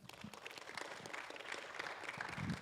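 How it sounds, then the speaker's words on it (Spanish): A church congregation at a Pentecost service applauds, a faint, distant patter of clapping that swells slightly toward the end, with some low voices beneath. "¿Por qué le dan un aplauso al Señor?"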